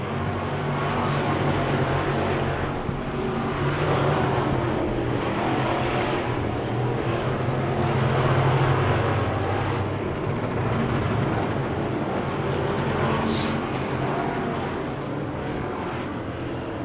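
Wissota Midwest Modified race cars roar down the back straightaway, engines forming a dense, steady wall of noise that holds loud and unbroken, with no clear single car passing.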